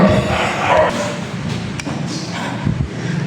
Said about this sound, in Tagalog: maingay talaga yung mga aso ko dito. Walang tigil, katahol ng tahol.